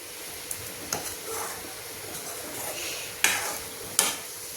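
Karaunda pickle cooks in a pan, soft bubbling sizzle under a few sharp spoon scrapes and clinks against the metal, close up with no speech.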